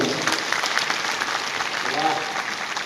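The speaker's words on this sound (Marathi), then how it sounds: "एकदा माझ्यासाठी या सगळ्या मान्यवरांसाठी जोरात टाळ्या वाजवा" A lecture audience claps for the dignitaries, dense steady applause filling the room, with a voice faintly heard underneath.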